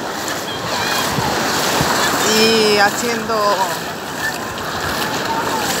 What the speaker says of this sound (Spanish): El retroceso del agua que vuelve